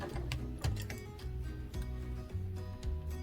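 A sewing machine stitches the top of a pair of overalls in short bursts, its needle ticking rapidly with brief pauses between runs, close by and fairly quiet.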